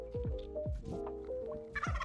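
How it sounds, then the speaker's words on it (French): A turkey gobbles in several rapid rattling bursts, fairly close and loud, with a brief scratchy noise near the end; no talking. "Regarde, petite pause pour le dindon."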